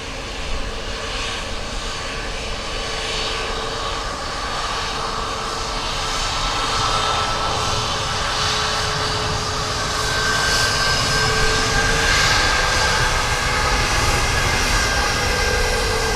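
Steady, loud roar of an airplane engine on approach to land at Dublin Airport, swelling gradually over a continuous broadband rumble with a faint whine, no voices.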